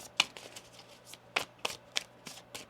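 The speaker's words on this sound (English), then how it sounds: "One more shuffle here" Tarot cards are shuffled by hand in a quiet room, a series of sharp close riffling slaps and flutters at irregular intervals.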